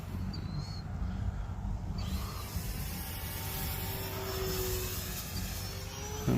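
E-flite Turbo Timber RC plane on approach to a runway, a steady airy motor drone at moderate distance running throughout with a slight pitch drift, no voices.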